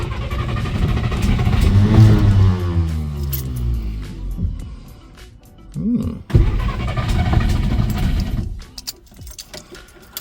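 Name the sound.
1962 Studebaker Lark starter whine and engine starting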